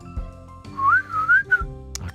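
A person whistles an imitation of a cardinal's call: a short series of clear, close, upward-sliding whistled notes, with faint thumps and room noise around them.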